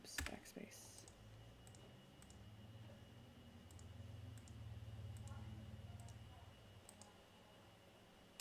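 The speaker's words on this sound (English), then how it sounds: "I'm clicking rather than talking, but let me finish clicking since I've committed to this" Rapid computer mouse clicks tapping in an irregular rhythm over a low background hum, recorded close while working in embroidery design software, with no talking.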